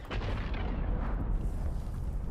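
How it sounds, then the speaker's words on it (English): A giant explosion in Dune Awakening, a loud deep rumbling boom that rolls on and sustains for a couple of seconds without fading, with no voices over it. "We're going to ignore that giant explosion."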